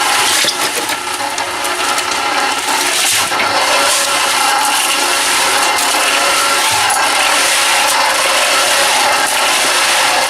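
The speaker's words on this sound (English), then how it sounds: "we just start shoveling them in" A concrete barrel mixer churns loudly and continuously, with the scrape and gritty rattle of bagged concrete mix being shoveled into the rotating drum with water, and steady mechanical rumble throughout.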